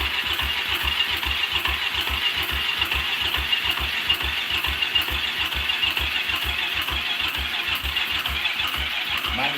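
A 2012 Polaris engine idling after a carburetor change, a rapid, steady chugging putter with rattling mechanical clatter, close and continuous throughout, no voices.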